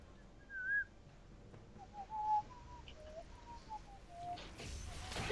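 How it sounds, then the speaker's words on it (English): Faint thin whistling of a Star Wars tune drifts in short melodic phrases over a soft background hum during a League of Legends game. "I got somebody else whistling it now."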